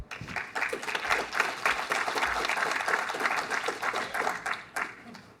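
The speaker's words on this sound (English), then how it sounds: "Let's give a big round of applause to all our speakers." An audience bursts into sustained applause, many hands clapping loudly and continuously before it tapers off at the end.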